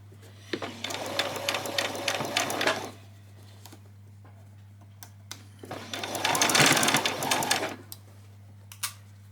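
A sewing machine stitches ruffles onto fabric in two sustained whirring runs separated by a quiet gap, close and fairly loud, with a few scattered clicks and light handling noises between.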